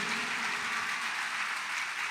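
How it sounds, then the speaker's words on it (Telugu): Loud, steady applause from a church congregation, a dense wash of clapping that holds evenly for about two seconds with no voices on top. "గట్టిగా చప్పట్లు కొడుతూ"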